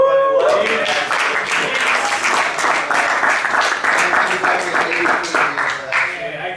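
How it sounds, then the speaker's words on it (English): A convention panel audience at Fiesta Equestria breaks into a loud, sustained round of applause and cheering that starts abruptly and holds steady, with voices mixed in. "I also want you to give this guy a round of applause"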